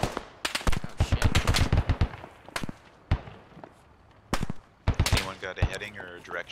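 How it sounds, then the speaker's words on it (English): Gunfire in the military shooter game Squad: sharp, scattered shots and short automatic bursts, some near and loud, others fainter and distant, with quieter gaps between them and voices talking. "Anyone got a heading or a direction for the gunfire?"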